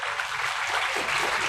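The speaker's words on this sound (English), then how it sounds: "Please give big applause, audience." An audience at an international student conference applauds after a presentation, a short even wash of clapping, moderately loud and continuous.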